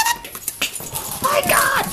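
Dogs whimper and yip in short high bursts close by, mixed with excited human voices talking over them.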